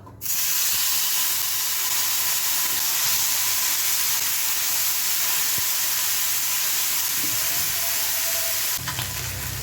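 Fish pieces rubbed with salt and turmeric hiss and crackle in hot oil, a steady, loud sizzle running unbroken for several seconds with no voices over it.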